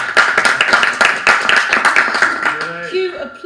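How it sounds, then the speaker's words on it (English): Applause from an audience at a Cheltenham racing preview evening, a few seconds of rapid, close hand clapping that thins out toward the end as a voice begins speaking. "cue applause."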